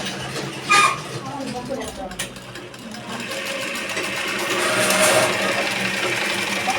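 A sewing machine runs a single-fold seam along the long edge of a strip of fabric, a steady whirring buzz that swells louder and holds through the second half after a few short starts.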